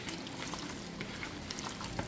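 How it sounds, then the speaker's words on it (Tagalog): Food, a corn-starch-coated item splashed with a little vinegar, frying in a pan, giving a steady close crackle and sizzle with small pops throughout and no talking. "Tapos, ipiprito na natin to."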